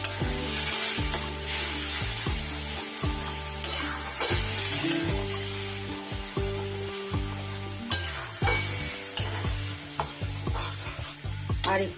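Spice paste with green chilli fries in a pan while a utensil stirs it gently, producing a steady close sizzle overlaid with scraping and clinking strokes, with no talking.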